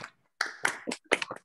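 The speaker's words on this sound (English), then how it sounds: "feel free to turn on your sound and clap if you'd like" An online audience claps after a physics and philosophy talk, scattered bursts of hand claps and taps arriving in separate clusters with brief silences between them.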